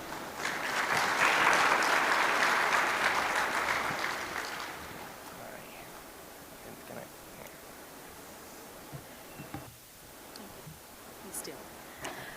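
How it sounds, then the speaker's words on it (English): Audience applause at a tech conference swells and holds for about four seconds, a broad crowd of clapping that fades into quiet room noise with faint stray sounds. "A big round of applause, ladies and gentlemen, to Mr. Sri Krishnan Venkateshwaran,"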